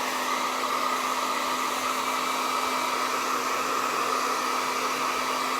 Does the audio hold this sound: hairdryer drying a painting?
yes